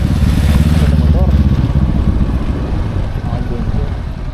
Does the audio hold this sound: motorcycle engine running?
yes